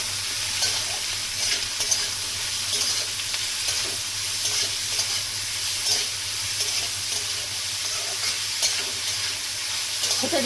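Vegetables for homemade veg chowmein stir-fry in a pan with salt, a steady loud sizzle running throughout with scraping stir strokes and no talking.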